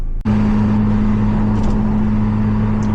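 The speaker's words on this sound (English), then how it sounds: "We are cruising along the motorway." Toyota MR2 Spyder cruising on a motorway, a steady low engine drone with road and wind noise from inside the car, constant and fairly loud after a brief dip at the start.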